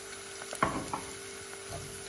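Fava beans dropped into frying onions in a pan on a gas stove, a soft splash and crackle as they land, then a quieter low sizzle with a few small clicks, no talking.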